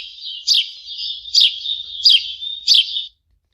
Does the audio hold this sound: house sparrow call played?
yes